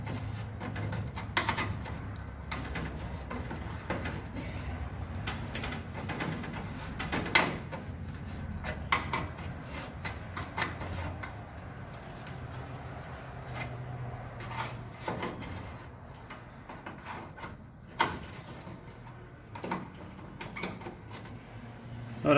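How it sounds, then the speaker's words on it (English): Pliers twisting a stuck nut insert back and forth on a 1951 Plymouth body, giving irregular scraping and rubbing metal sounds with occasional sharper clicks, close and fairly steady. "hold it with a pair of pliers and just work it back and forth"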